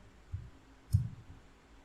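A computer mouse clicks twice, two soft, dull taps about half a second apart, the second louder, over a quiet background.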